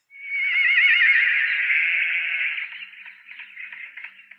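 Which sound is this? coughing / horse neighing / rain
horse neighing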